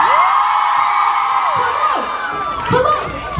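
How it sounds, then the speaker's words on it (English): A crowd cheers and whoops loudly, with high excited shouts rising and falling over a brief burst of audience noise. "Round of applause for the humans."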